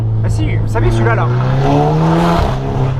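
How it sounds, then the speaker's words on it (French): A tuned car engine revs loudly through a Super Sprint full tube exhaust, its deep rumble rising and falling in pitch, while someone speaks over it. "Et bien ce son est donné grâce à la ligne Full Tube Super Sprint."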